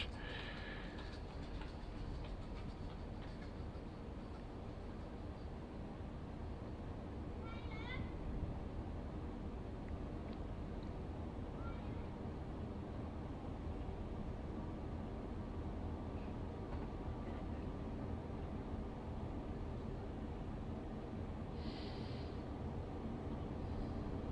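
Class 801 electric train pulling away from a station in Train Simulator Classic, a steady, continuous cab rumble and rolling drone with faint intermittent clicks, accompanied by talking throughout.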